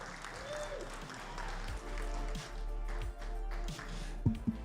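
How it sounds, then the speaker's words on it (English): Audience applause at a state championship after a team's performance fills the clip, a sustained wash of clapping with a few louder isolated claps toward the end. "One more round of applause for Centralia for their performance at this event."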